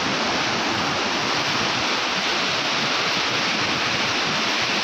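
The flooded Nira river surges over rocks in a loud, steady, close roar of rushing water, unbroken throughout with no voices.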